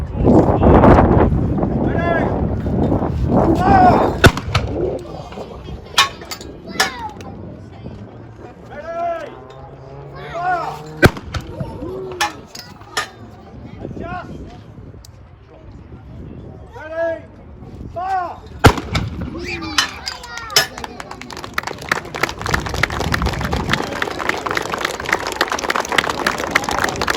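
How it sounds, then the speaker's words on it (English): An artillery gun fires rounds at a military history event at a helicopter museum, each shot a loud, sharp boom with a rumbling tail, repeated several times with crowd chatter and wind noise between the blasts. "So we're going to give you 4 rounds here, 3 rounds of course fire."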